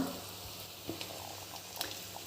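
Gram flour snack dough dropped into hot oil two or three pieces at a time, a soft continuous crackling sizzle with a few brief pops and bubbling spurts, fairly quiet and close.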